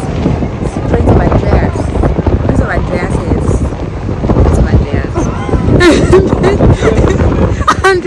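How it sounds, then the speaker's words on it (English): A strong wind in Cape Town buffets the microphone with a loud, constant roar that surges and rumbles, while voices talk beneath it. "as you can hear by the wind, it's just not possible."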